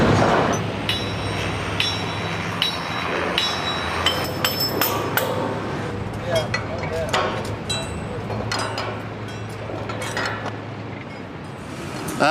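Steel girder sections are bolted together on the Woodrow Wilson Bridge construction site, giving repeated metallic hammering clanks and clinks at close range over a low mechanical drone, with voices talking in the background.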